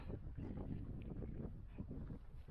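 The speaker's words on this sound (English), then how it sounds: "The wind from the east is really bitter." A bitter east wind buffets the microphone on open Dartmoor moorland, a close, steady low rumble with fluttering gusts and no voices.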